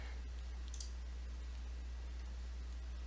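A single faint mouse click on a computer running spellcheck software, a short bright tick about a second in against a steady low hum, with no other sounds.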